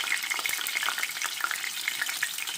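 Hamburger tacos fry in hot oil in a pan, a steady close crackling sizzle with rapid bright pops running throughout, no voices.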